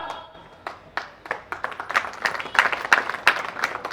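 Scattered claps from a crowd gathered at a birth-anniversary event for Jyotirao Phule, starting as a few isolated hand claps and thickening into steady, moderately close applause over about four seconds, with no talking.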